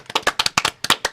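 Close, sharp hand claps, about ten in a quick irregular burst, alone with no talk.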